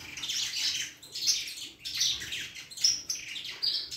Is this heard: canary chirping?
yes